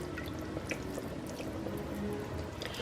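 A tablespoon of red wine vinegar dribbling into a bowl of keto sloppy joe mixture, a soft close trickle with small drips over a faint background hiss.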